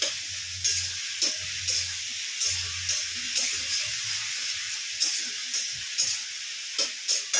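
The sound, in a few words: spice paste being slowly sautéed (koshano) in a pan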